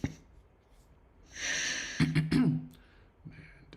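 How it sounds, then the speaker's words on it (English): A man coughs and clears his throat with a few rough, close bursts after a stretch of heavy breathing. He is sitting at a live stock-trading stream and has picked up a cough from his wife. "I think I picked up a cough"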